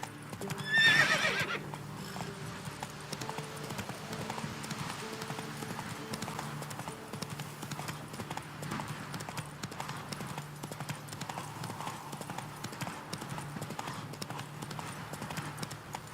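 A horse in The Witcher 3 snorts and whinnies loudly near the start, then its hooves keep up a steady, even clip-clop under a low droning background for the rest of the stretch.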